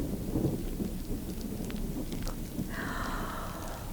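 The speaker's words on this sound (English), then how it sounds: "Oh, my, sounds like a storm blowing up outside, doesn't it, children?" Storm blowing up outside, with a steady wash of rain and low rumbling thunder, joined near the end by a brighter whooshing gust; no speech.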